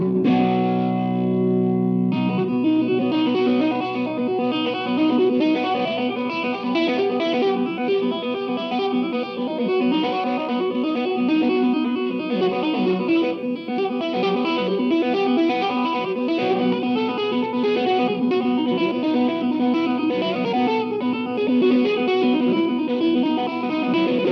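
Heavily distorted electric guitar, originally tracked as bass, plays a dense, sustained riff that stays loud and constant throughout, with no talking.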